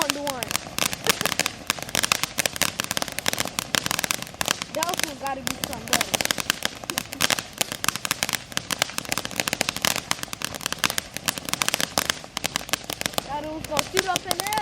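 Fireworks and firecrackers crackle and pop in a dense, continuous barrage of sharp bursts and whistles nearby, with people talking over the noise during a Fifth of July celebration.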